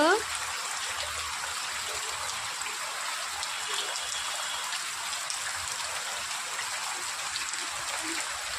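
Steady heavy rain falling outdoors with running water, a dense continuous hiss that holds even and unbroken throughout.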